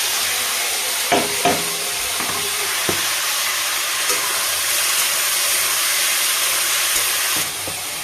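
Chow mein and potatoes fry in hot oil with a loud, constant sizzle and hiss, broken by several sharp knocks and scrapes of stirring.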